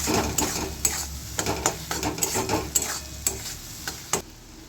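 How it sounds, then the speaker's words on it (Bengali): Cumin and coriander powder fried in a pan for Bengali dal with potol, producing a continuous close sizzle under frequent rhythmic scraping strokes of a spatula against the pan. "দিয়ে মশলাটাকে ভালো করে কষে নেব"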